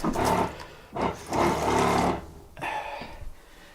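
Water running from the taps of a boat's aft cabin head while a 1976 34-foot CHB trawler's plumbing is winterized, coming in three close bursts of rushing flow with short gaps between.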